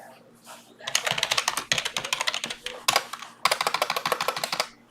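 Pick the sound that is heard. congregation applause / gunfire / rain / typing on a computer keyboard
typing on a computer keyboard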